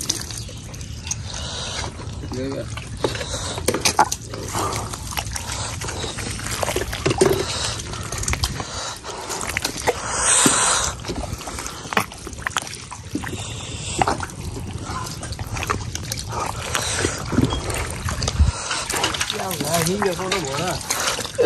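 Water trickles and pours steadily as a wetland is drained to catch fish, beneath ongoing talk, with engine-like rumble and background noise throughout.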